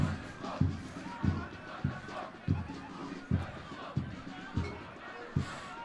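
A school rugby crowd at a Hilton College versus Maritzburg College 1st XV match makes rhythmic pulses about every two-thirds of a second, like chanting or stamping, over a broad background roar.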